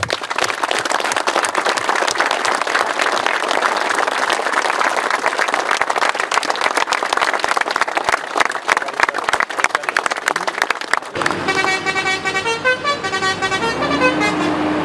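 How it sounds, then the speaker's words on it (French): A crowd at a farmers' rally claps steadily and loudly for about eleven seconds, with voices mixed in; then the applause stops and car horns honk in long, held tones. "il faut vous applaudir vous-même et applaudir tout ce qu'a fait Fabrice pendant toutes ces années"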